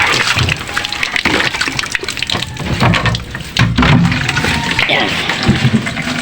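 Water gushing and splashing into a container, rough and noisy, with brief speech-like sounds mixed in.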